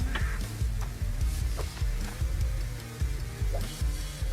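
A boot cooks over a campfire in the mining game Hydroneer, giving a steady crackling sizzle with soft scraping and knocking noises underneath.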